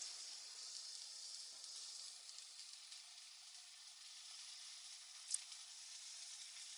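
Chicken roulade searing in a pan over medium-low heat, a steady faint sizzle and hiss throughout with one brief sharp crackle near the end, no voices.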